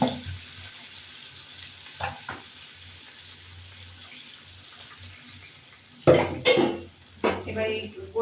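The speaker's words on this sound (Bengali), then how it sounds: "এবার এই জলটা দিয়ে দিলাম, টমেটো দিয়েছি এর মধ্যে।" Water poured into a pan of thin Bangladeshi-style tengra fish curry with tomatoes and green chillies, giving a sudden loud splash and sizzle after quiet simmering, followed by a few more bursts of bubbling and clatter.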